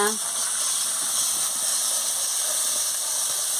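Fish curry with coriander leaves frying in a pan, a steady bright sizzle and hiss that continues evenly throughout.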